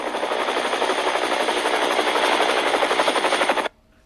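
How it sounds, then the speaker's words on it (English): A helicopter's rotor thumps steadily and loudly with a fast pulsing beat, then cuts off abruptly near the end. "Then Gordon hears the sound of the helicopter coming in."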